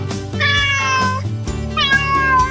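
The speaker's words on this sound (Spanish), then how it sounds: "¿Quién es? ¡El gato!" A cat meows in a long, clear, close call, with a second meow following, over a soft musical backing, presented as an animal-sounds example for young children.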